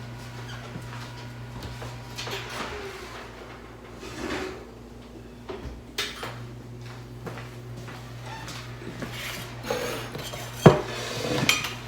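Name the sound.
baking pan taken out of the oven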